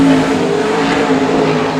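Limited sprintcar running a qualifying lap, its engine a loud, steady sustained roar held close and constant throughout, with no talk over it.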